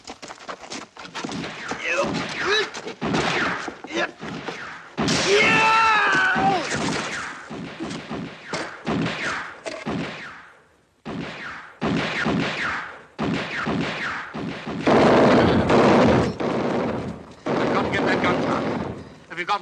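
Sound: gunfire from a gun tower in a movie

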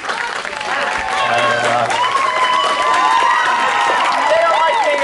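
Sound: audience applause for the theatre crew

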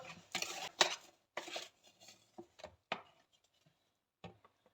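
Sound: stirring cake batter in a bowl

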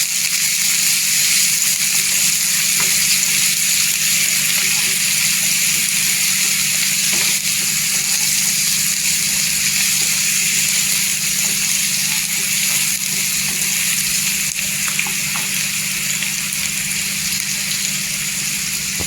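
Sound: onions frying in oil

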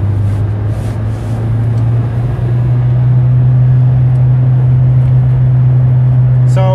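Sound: diesel car engine revved to about 3000 rpm to clean DPF

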